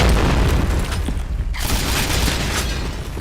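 A grenade blast in the Counter-Strike video game comes through as a loud, dense burst of explosive noise, with rumbling and clatter continuing for a few seconds and a brief dip midway.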